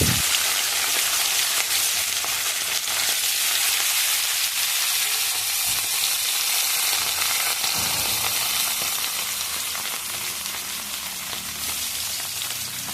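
Pieces of fish frying in a pan of hot oil, giving a steady, dense sizzle that holds close and even for the whole stretch, with no voices over it.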